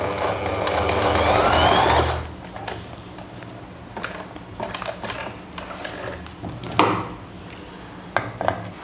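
A sewing machine runs a straight seam on fabric during a stitching class where cord is being made, with a loud, fast, steady whirring for about two seconds, then quieter clicks, knocks and handling sounds.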